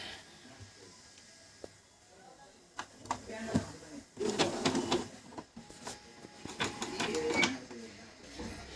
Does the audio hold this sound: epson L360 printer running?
yes